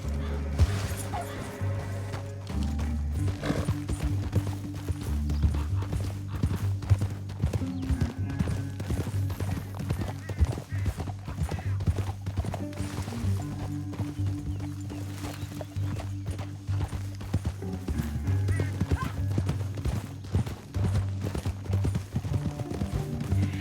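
Horse hooves clip-clop in a quick, steady rhythm as riders gallop through a canyon in the video game Red Dead Redemption. The hoofbeats are close and continuous, layered over a low rumble, with a dog-like yip mixed in.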